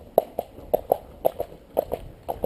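Horse hooves clip-clopping in a steady walking rhythm, about a dozen distinct close hoofbeats alone with no talk.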